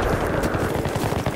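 Rapid machine gun fire in Battlefield 3 on Sharqi Peninsula, a dense, continuous burst of closely spaced shots that stays loud and close for about a second and a half.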